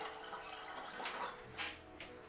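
Cooled simple syrup is poured from a container into jars of lemon vodka for limoncello, a soft continuous liquid trickle and splash heard close and fairly quiet.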